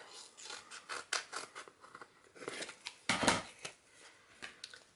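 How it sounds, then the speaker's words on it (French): Scissors cutting around a rubber stamp for scrapbooking, a run of close, crisp snipping and slicing strokes at an irregular pace, with one louder cut midway and no voice. "Donc je vais le couper comme ça."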